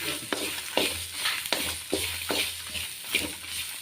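Food frying in a pan with a steady sizzle, broken by repeated scraping strokes of a spatula stirring about every half second, close up.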